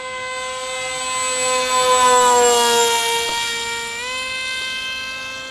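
A YF-23-inspired RC plane with a 28-inch wingspan passes with a high, steady electric whine that rises and shifts in pitch, loudest mid-pass, then eases slightly as it flies on, with no talk.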